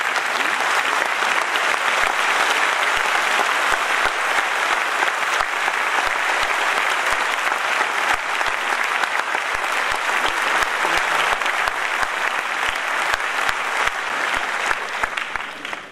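Sustained applause from a large audience at an award ceremony honouring a lyricist, a dense, even wash of clapping lasting throughout with no speech over it.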